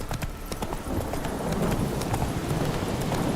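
Roach, a horse in The Witcher 3 video game, gallops with a steady, close clip-clop of hooves over rolling ambient noise, with no talk.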